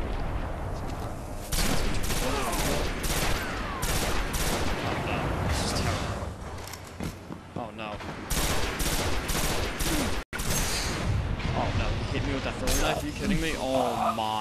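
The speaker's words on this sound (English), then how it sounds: "I just realized that I can shoot this full auto." Full-auto gunfire in the video game Destiny during an Iron Banner match: loud, dense bursts of rapid shots with a brief gap, while a voice talks over the action.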